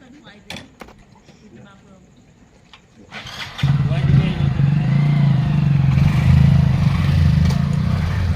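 After a quiet stretch of clicks and handling, a motorcycle engine catches and settles into a loud, steady idle close by, with people talking nearby.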